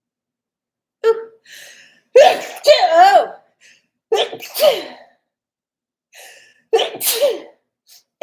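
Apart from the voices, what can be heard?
sneezing fit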